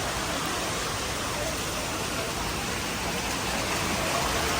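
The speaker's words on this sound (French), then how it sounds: "Il pleut des tonnes." Heavy tropical rain pours steadily near a river on Java, a dense, even hiss with no breaks, loud and enveloping from start to finish.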